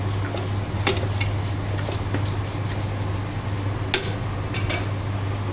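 A spoon stirs spices and beef in a cooking pot with no oil, giving irregular metallic clinks and scrapes over a steady low hum, close by and with no talking.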